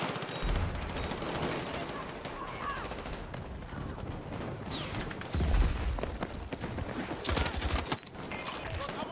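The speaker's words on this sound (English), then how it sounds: "I accidentally shot my own guy. A little bit of friendly fire in this." Gunfire in the video game Battlefield 6 during a friendly-fire moment, with rapid automatic bursts and heavy thumping impacts repeating over several seconds amid busy battlefield noise.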